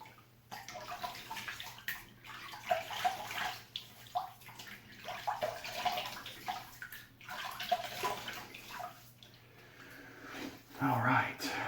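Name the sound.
water running to wet a shaving mug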